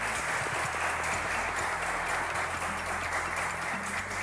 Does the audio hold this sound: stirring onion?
no